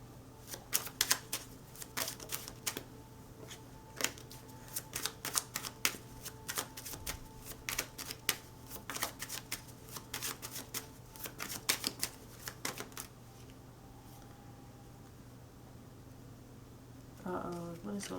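Rapid riffle shuffling of a deck of tarot-style cards during a card reading, with dense crackling bursts repeating steadily for about thirteen seconds before a brief quieter stretch, close and fairly loud.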